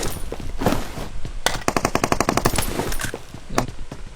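Rapid automatic gunfire in a video game, a tight burst of evenly spaced shots in the middle of a stretch of scattered single shots and clatter, loud and close with no talking.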